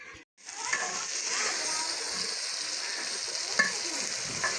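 Tadka of spices tempered in hot oil, a steady loud sizzle and crackle filling the whole stretch after a brief opening pause, with a few sharper pops and spatters.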